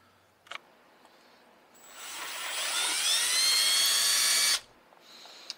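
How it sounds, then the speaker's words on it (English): Power drill boring a hole for a Jeep Wrangler JKU headlight mount, a loud close high-pitched whine that builds steadily and holds for nearly three seconds before cutting off abruptly, with a few faint clicks before and after. "Alright, so we got our first hole drilled."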